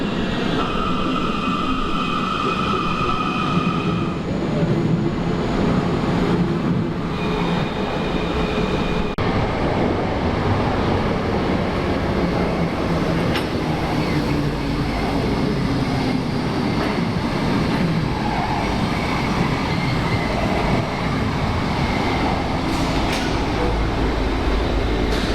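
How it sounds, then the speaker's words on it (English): An old U6 metro train runs steadily and fairly quietly, a continuous rumbling roar with shifting tones lasting the whole stretch and no talk. "Those trains are very old, but it surprised me how quiet they are."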